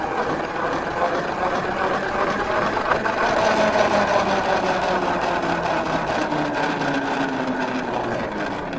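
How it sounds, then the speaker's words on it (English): A plastic salad spinner whirs steadily at close range, a continuous mechanical rotating hum with a faint rattle that holds at a constant level, paint inside for a children's process art activity; no talking. "Now you need to make sure that the spinner is on, so it's all secured, and start spinning"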